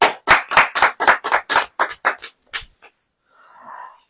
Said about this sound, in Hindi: ताली नहीं बजाएंगे?